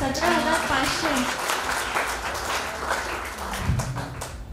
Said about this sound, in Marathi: बापरे, जोरात टाळ्या झाल्या पाहिजे.